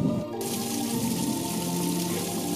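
Warm spring water flowing steadily from the crater at Gedong Songo temple site in Bandungan, a continuous close splashing rush like a running tap, loud and unbroken throughout.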